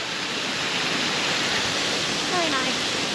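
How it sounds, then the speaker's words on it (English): Steady broadband rush of a waterfall in a park planted with lychee trees, loud and continuous throughout, with faint tonal traces near the end. "And a waterfall."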